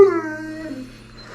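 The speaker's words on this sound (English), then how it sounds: "Dog doesn't seem too happy about it." An unhappy dog lets out a single close whimpering howl that starts sharply and trails off into a long, fading whine, with no talk.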